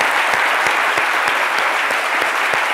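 Studio audience applauding on a French television talk-show set, a steady, dense wash of clapping close by that holds evenly for a few seconds with no voices over it.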